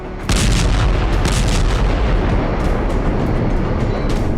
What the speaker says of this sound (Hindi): यहां हमास की अल कसाम ब्रिगेड के लड़ाकों ने रॉकेट लॉन्चर से आईडीएफ के व्हीकल को उड़ा दिया।